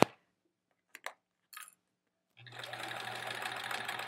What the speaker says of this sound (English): we just have 4 squares to sew together and press